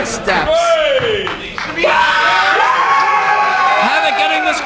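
A wrestling crowd at a women's match cheers loudly and steadily for Havok, with shouts and whoops rising over a continuous roar throughout.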